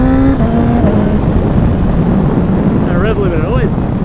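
A 2015 BMW S1000RR motorcycle engine runs near and loud at high revs against its rev limiter. The roar is steady and continuous, with a brief rising and falling whine toward the end.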